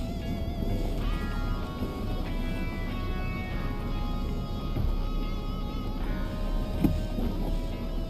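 A Ford Ranger in low range creeps down a very steep off-road slope under hill descent control, its engine droning low and steady with faint tonal whine throughout and a brief knock near the end.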